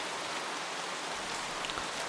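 Steady rain falls on a surface, a dense, even hiss of drops that stays close and constant, with no voices.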